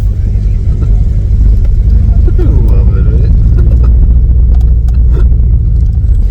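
A Corvette painted as a cow idles with a deep, steady rumble at a Cow Day gathering outside a Chick-fil-A in Hutchinson, Kansas, the engine loud and close throughout while people talk over it.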